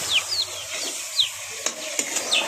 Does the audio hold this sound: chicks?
yes